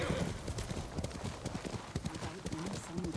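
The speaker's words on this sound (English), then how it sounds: "let's get Kage, our horse, and let's follow the guiding winds" Horse hooves beat a steady, quick galloping clip-clop in the Ghost of Tsushima video game, fairly close and continuous, with game music and ambience underneath.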